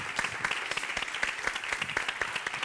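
An audience applauds at the close of an equality dialogue event in Gáldar, Canary Islands, a steady even clapping that fills the room for a few seconds.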